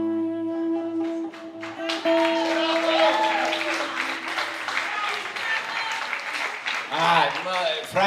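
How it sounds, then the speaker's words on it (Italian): An audience breaks into steady, dense applause after a live song ends, the clapping carrying loudly for several seconds with voices talking over it near the end. "Francesco sta applaudendo"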